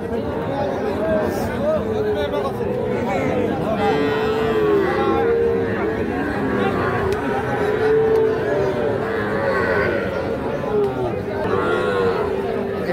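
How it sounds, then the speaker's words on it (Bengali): A young Sahiwal bull calf, about three months old, moos at a busy rural cattle market. Drawn-out lowing calls rise over constant crowd chatter and nearby talking. "শাহিওয়াল ষাঁড় বাচ্চা 3 মাস প্লাস হবে বয়স।"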